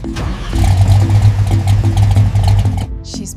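A restored 1967 Ford Mustang engine cranks and fires, settling into a loud, rumbling run close by for a few seconds before cutting off abruptly.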